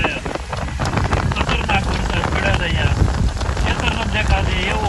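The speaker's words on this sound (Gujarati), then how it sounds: "આખું ખતરનાક વરસાદ પડ્યો છે ભાઈ અહીંયા જોઈ શકો છો" Heavy monsoon rain pours over farm fields during a storm, a dense continuous hiss of downpour mixed with gusting wind on the microphone. It stays loud and unbroken throughout.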